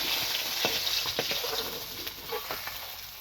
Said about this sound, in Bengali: মাছ কটা ভাজা ভাজা করে, লাল লাল ভাজা ভাজা করে তুলে নেব এখন